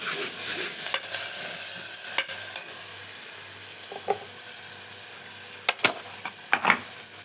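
Ingredients stirred in a spoonful of hot oil for a Telugu-style curry sizzle with a soft steady hiss, broken by occasional sharp scrapes and clinks of a spoon against the pan, close up.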